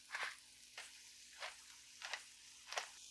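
Sliced onion and garlic sizzle in a hot pan for potato pizza, soft frying hiss broken by several short bursts of crackling as the pieces are stirred, close and quiet with no talking.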